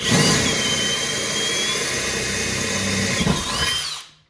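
A power drill with a 21/64-inch bit whirs steadily for about four seconds, pitch wavering slightly as it bores, then spins down and stops.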